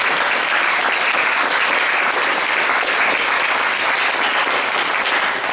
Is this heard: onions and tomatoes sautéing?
no